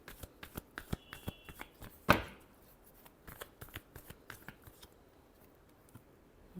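Tarot cards shuffled by hand in a quiet room: a run of soft, close, irregular taps and slides, with one brief sharp riffle burst partway through, then lighter tapping.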